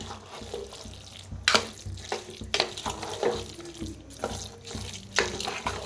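Wet stirring and scraping of jaggery and cooked lentils being mixed in a pot for puran poli filling, with irregular sloshing strokes every second or so, fairly quiet.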